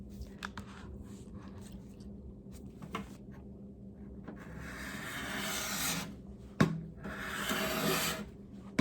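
An old wooden table is sanded by hand with 80 grit sandpaper: faint, uneven rasping strokes with short pauses, growing into longer, louder scrubbing passes toward the end.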